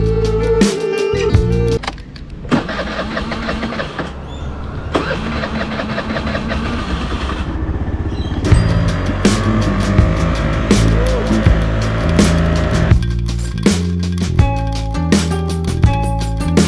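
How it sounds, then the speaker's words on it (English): A small rental scooter's engine drones and strains at low speed while climbing a hill on Magnetic Island, Australia, steady and close with rising and falling revs throughout. "get back on the scooter"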